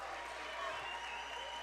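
A basketball crowd at a boys playoff game applauds and cheers steadily as it rises to its feet, a dense, fairly faint wash of clapping and voices.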